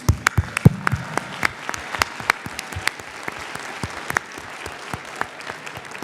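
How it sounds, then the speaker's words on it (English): Audience at a 2017 college commencement applauding graduates, loud scattered claps with sharp individual hand strikes standing out near the microphone, thinning gradually over several seconds. "Please join with me for a round of applause for our graduates"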